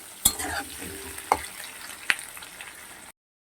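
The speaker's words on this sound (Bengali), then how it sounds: "আলুগুলোকে ভালো করে ভাজবো পেঁয়াজ লঙ্কার সাথে" Potatoes with onion and chilli sizzle and fry steadily in a hot pan, with a few sharp scraping clatters of a spatula stirring at intervals.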